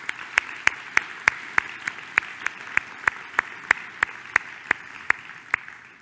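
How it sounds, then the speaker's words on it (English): Audience applause at an ASN presidential address: a room of people clapping steadily, with sharp, evenly spaced claps from one nearby clapper standing out above the dense wash for several seconds. "let's give him a round of applause"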